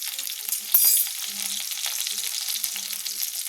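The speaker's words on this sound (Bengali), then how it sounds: "কেটে রাখা 2টো বেগুন আমি তুলে দিলাম, একটু ভেজে নেব" Two cut eggplants are frying with a pinch of salt in a pan, a close, steady sizzle with a short louder burst near the start and a few light stirring scrapes.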